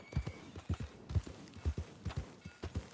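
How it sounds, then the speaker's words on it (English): Rhythmic horse hooves pound in a fast, even gallop across ground in the Red Dead Redemption 2 video game, close and steady with no voices. "Faster, horse!"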